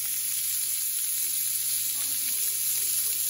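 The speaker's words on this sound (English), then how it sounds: "you just want to saute them for a little bit because they can finish cooking in the rice" Chopped vegetables sauté in a pan beside ground beef for dirty rice, making a dense, even, close sizzle that holds steady the whole time without any voices.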